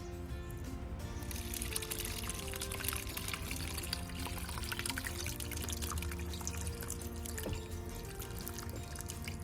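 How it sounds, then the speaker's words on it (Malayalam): Homemade grape wine strained through a cloth into a steel vessel, a steady trickle and patter of liquid with occasional drips, close and continuous with no talking. "എന്നിട്ട് നമ്മൾ ഇതിൻ്റെ അകത്തോട്ട് ഊറ്റിയെടുക്കുകയാണ് ചെയ്യുന്നത്."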